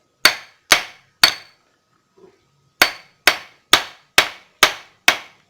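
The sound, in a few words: hammer tapping engine part while turning it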